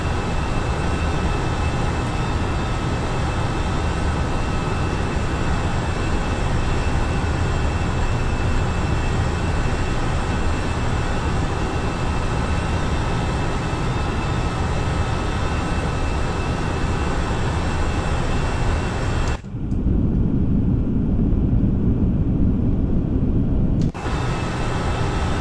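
Steady loud roar of an airliner climbing after takeoff with the landing gear retracting, a broad unchanging engine and airflow drone that drops out abruptly near the end.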